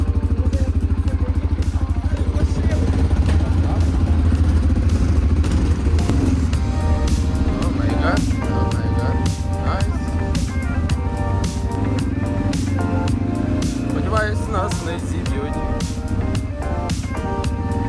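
A quad bike engine drones steadily while riding near Yaremche, with a continuous motor hum, occasional rattling clatter and small surges in revs throughout.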